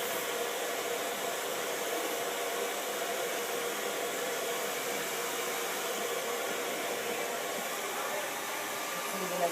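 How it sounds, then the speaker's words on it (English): A handheld blow dryer shaken back and forth over sprayed hair while styling a 3D rose in a salon, giving a steady, loud broadband whoosh of blown air that runs unbroken throughout. "And you shake with the blow dryer as you go along."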